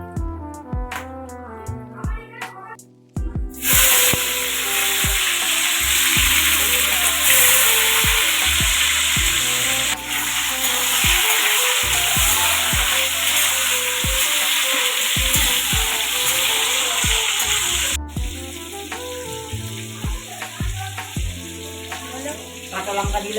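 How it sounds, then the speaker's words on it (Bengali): Whole cloves, cardamom and bay leaves fry loudly in hot oil in a pan, giving a dense, steady sizzle with a sharp burst as they go in and scattered clicks of stirring throughout. "এবার ভাজ মশলা দেবো, লবঙ্গ, এলাচ, তেজপাতা"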